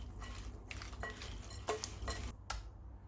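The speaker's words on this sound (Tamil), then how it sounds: "மிக்சர், காராப்பூந்தி உடனே கலந்துட்டு சாப்பிடணும்" Bhel puri being tossed together with savoury mixture and crunchy kara boondi, giving soft, uneven scraping and rustling stirs with a few light clinks of a spoon against a bowl, close and moderately quiet with no voices.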